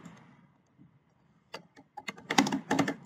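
Computer keyboard keys clatter as code is typed for a C++ circular linked list, starting quiet and then breaking into quick close bursts of clicks.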